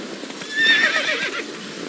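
Roach the horse whinnies in the rain in The Witcher 3, a bright, rising neigh with a faint clop of hooves beneath, close and clear, no voices.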